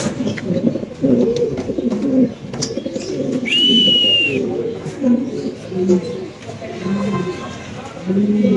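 Pigeons for sale at a Bengali dealer's pigeon stall coo in repeated low throaty phrases close by, with a brief higher whistle-like call partway through and a voice talking over them.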